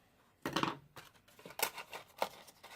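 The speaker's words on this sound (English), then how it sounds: "Use my paper snips." Paper snips cutting paper at a crafting table: a few short, crisp snipping cuts close by, spaced unevenly over a couple of seconds, with no talk.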